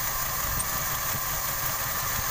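A Toyota Kijang Grand engine idles at normal RPM, giving a steady, even low rumble with a mild vibrating hum that runs unbroken and close by throughout.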